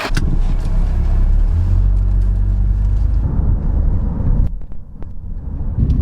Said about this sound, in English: Listen to that engine, Jazz.